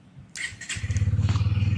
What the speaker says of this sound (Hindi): यहाँ से गाइस मैं करता हूँ सेल्फ को प्रेस,